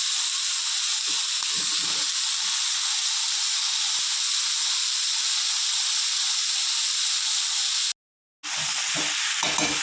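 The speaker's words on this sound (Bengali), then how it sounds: "সবজিগুলো হালকা করে ভেজে নিয়েছি।" Vegetables fry lightly in a hot pan with a loud, steady hissing sizzle and occasional stirring scrapes. The sizzle cuts out abruptly for a moment near the end, then resumes.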